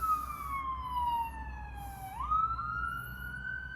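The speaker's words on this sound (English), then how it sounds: "I want to talk about ambulances, apparently." An ambulance siren wails outside, its tone sliding down and then jumping back up as it passes at a distance, moderately loud over a low road rumble, with no talking.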